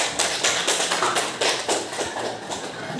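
A classroom group claps together, a loud run of fairly regular, close hand claps repeating steadily for a few seconds with no talking over them.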